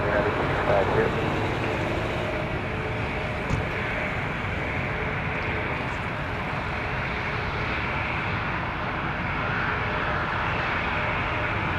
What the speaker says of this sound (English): 737 Max 8